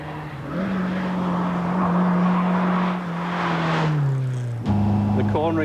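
A 1996 car on the road with its gear change going straight into the gearbox, a steady engine drone holding pitch, dipping as it eases off, then a sharp shift to a new tone near the end, with someone talking over it.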